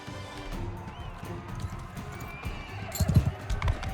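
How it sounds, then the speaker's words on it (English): Horse hooves clip-clop at a quick running pace in the Mount & Blade Bannerlord combat game, a steady rhythmic gallop with a neigh, growing louder and busier toward the end amid game clamor. "All right, let's get on this pony."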